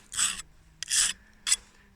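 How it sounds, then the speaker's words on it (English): Three short rasping strokes of a file scraping burrs off hardened sheet steel, close and crisp, with brief quiet gaps between them. "Like I can still file the burrs off of it,"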